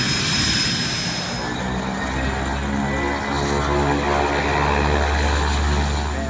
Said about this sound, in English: The plane's starting up.